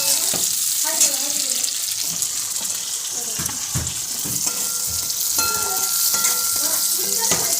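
Onions sizzle and crackle in a hot pan, with occasional clinks and scraping of a spoon stirring, close up and moderately loud.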